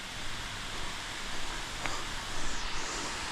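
A waterfall at Koh Samui gives a steady, hissing broadband roar, even and moderately loud throughout, with no voices over it.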